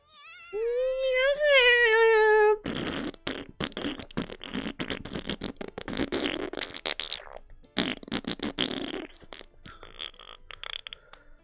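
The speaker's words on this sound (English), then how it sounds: "Oh no, my fear farts!" Comedic fart sound effects in the visual novel A Kiss for the Petals: Maidens of Michael, a long sputtering run of loud flappy bursts and pops following a voiced tonal sound at the start.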